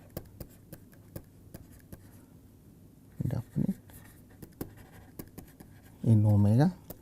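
During a mathematics lecture, a marker or chalk writes on a board, making a series of quick, sharp taps and scratches, with brief bits of a lecturer's voice in between.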